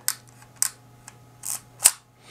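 A Nikon FM2 film camera's advance lever is wound in short strokes, giving a few crisp mechanical clicks and ratchets spaced unevenly, close and dry.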